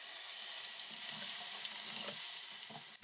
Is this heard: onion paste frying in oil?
yes